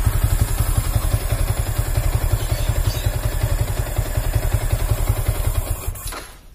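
A Yamaha Vixion motorcycle idles close by in a steady, even chugging pulse that holds for several seconds before dropping away at the end.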